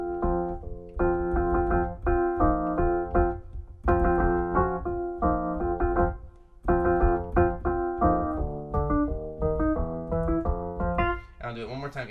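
A piano plays the main loop of a song slowly: a short rhythmic pattern of chords stepping up a half step with each move, repeated steadily, close and clear with no talking.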